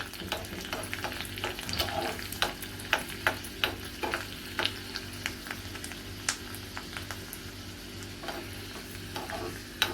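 Two or three garlic cloves and two green chillies fry in hot oil for a dal palak tempering, giving a steady close sizzle broken by repeated sharp clicks and scrapes of a stirring spoon, with no voices.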